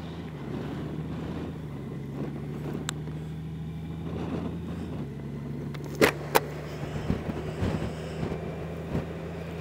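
A motorcycle hums steadily along a road near Brigus and Cupids, its low engine drone shifting pitch now and then, with wind buffeting and a few sharp knocks over the ride.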